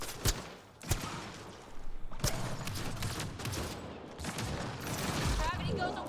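Gunfire in the video game Mass Effect: Andromeda, sharp close shots and short bursts scattered irregularly over six seconds among combat noise, with voices talking in between.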